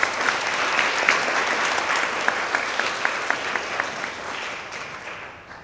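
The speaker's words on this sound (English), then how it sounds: "Let's give you a round of applause." Audience applause at a 2024 international student graduation celebration, a full sustained round of clapping from a large crowd, with some sharper individual claps, fading out at the end.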